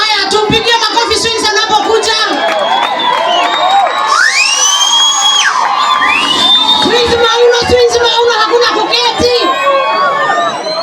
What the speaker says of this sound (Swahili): tumpigie makofi Swings anapokuja